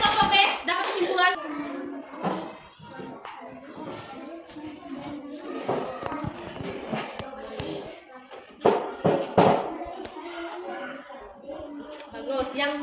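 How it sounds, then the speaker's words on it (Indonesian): Schoolchildren in a classroom clapping for a group, scattered bursts of hand claps, taps and shuffling interleaved with children's and a teacher's speech, close and uneven in rhythm. "tepuk tangan untuk semua kelompok B"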